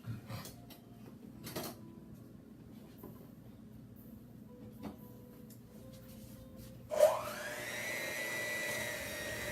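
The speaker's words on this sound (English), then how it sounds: "All right, so Travis, if you will blend that up for us with the blender." An electric blender runs in a home kitchen while baking red velvet cake and sweet potato pie, kicking in abruptly near the end with a loud motor whine that climbs in pitch and then holds steady, following quiet background rustling.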